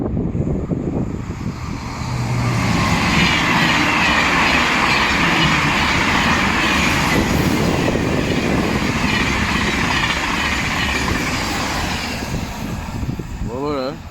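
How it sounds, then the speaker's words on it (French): A TGV high-speed train arriving at a French station, a loud sustained rumble and rolling wheel noise close by for the whole stretch, with voices talking over it. "ouais, TGV qui arrive"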